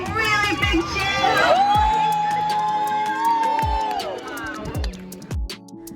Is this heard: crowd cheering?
yes